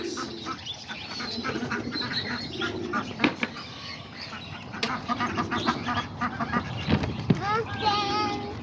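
Farm ducks quack at feeding time in repeated, overlapping calls, with wing flaps and bird noise in the mix. Chickens are also being fed, and a person speaks now and then.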